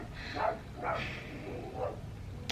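Small dogs barking a few times at a moderate distance, short sharp yaps spaced about half a second apart, with no talking.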